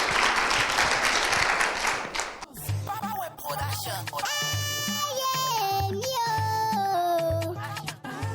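Applause from a crowd of parents and children at a Christmas spelling contest for kids fills the opening seconds, then gives way to loud, cheerful music with a steady beat.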